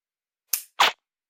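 Two crisp dry-fire clicks from a Smith & Wesson SD9VE pistol used with a laser trainer, a light snap followed a quarter second later by a fuller click, close and isolated in silence.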